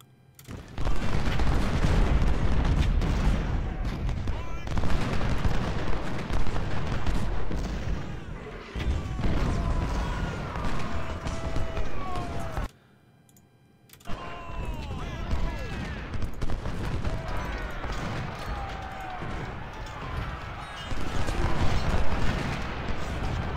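Musket volleys and scattered gunfire from a Civil War battle in the video game Ultimate General: Civil War, a dense rumbling crackle of shots with booming bursts, briefly cutting out midway, with someone talking over it.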